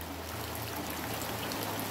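Steady wash of heavy rain pouring over a transmigration village in Sepunggur, a continuous even hiss with a low rumble underneath, moderately quiet and without speech.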